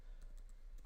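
Keyboard keys typed a few times while writing an answer into a PowerPoint quiz, soft quick clicks over a steady low hum.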